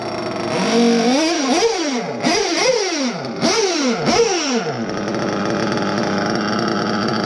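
A modded Triton L5 Evo with a Nova Rossi race carb and RCR modifications revs repeatedly, four or five sharp climbing-and-falling bursts, then drops to a steady raspy idle, loud and close.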